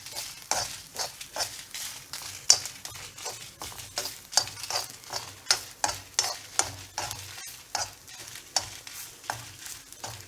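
Dried red chillies and grated coconut fry in a pan while being stirred steadily, with a low sizzle under repeated scraping strokes of a spoon against the pan, close and fairly rhythmic.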